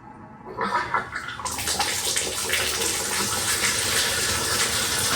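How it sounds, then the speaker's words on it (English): Water bursts on and then runs steadily from a Moen shower faucet, a loud, broad hiss that continues without a break. "let's turn on the water and see what we have going on"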